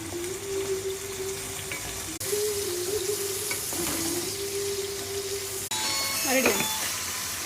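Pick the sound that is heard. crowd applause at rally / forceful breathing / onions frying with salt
onions frying with salt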